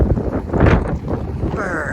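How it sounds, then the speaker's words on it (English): Strong, cold gusts buffet the microphone in a busy outdoor parking lot, a steady roaring rumble that swells and dips throughout. "Brr, and it's so windy."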